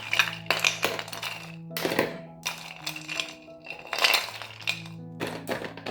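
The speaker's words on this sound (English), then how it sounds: "I have my ice cubes over here because I want it cool, so I will use a couple of them" Ice cubes clink and knock against a glass or blender jar while a mango banana smoothie is being made, as a series of sharp bright clinks coming in clusters, close by and moderately loud, with no talking.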